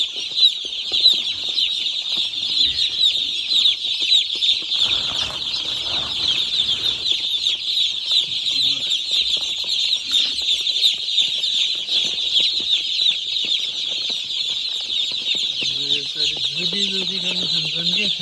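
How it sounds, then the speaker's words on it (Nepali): Chickens clucking and flapping their wings about fifteen minutes after being let out, a busy continuous flock sound with occasional louder calls near the end. "यो चाहिँ कुखुरा छोडेको 15 मिनट पछिको दृश्य हो"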